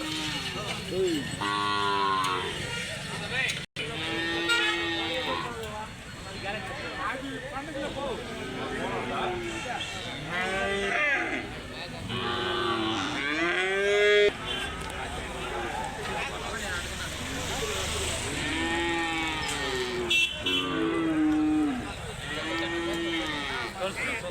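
Cattle moo repeatedly at a busy weekly livestock market during the Pongal festival, with overlapping calls near and far under continuous chatter from people talking throughout.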